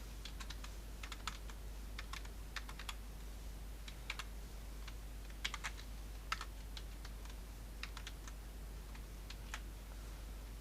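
Fast, irregular keystrokes on a computer keyboard, crisp clicks in short bursts with brief pauses over a low steady hum, quiet and close.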